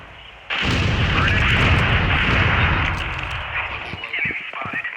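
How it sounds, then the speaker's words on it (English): A grenade goes off in the video game Critical Strike, a sudden loud blast that swells into a sustained rumbling roar lasting a couple of seconds, then fades under lighter game sounds. "Grenade out. Grenade out."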